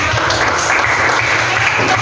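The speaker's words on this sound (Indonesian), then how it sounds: "tepuk tangan buat" Students in an Indonesian classroom lesson burst into dense, steady applause, loud and close throughout the two seconds, with no break in the clapping.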